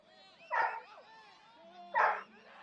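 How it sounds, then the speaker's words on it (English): A 13-and-a-half-year-old black Labrador barks twice in the background, sharp and moderately loud, with about a second and a half between barks. The barking sits under talk during a youth soccer match in Houston. "I have a 13-and-a-half-year-old black lab who is just going nuts in the background here."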